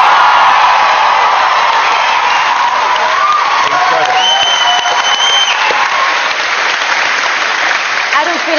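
A live television studio audience on a singing talent show applauds and cheers loudly after a performance, a sustained roar of clapping with whoops over it, and a voice speaks through the noise.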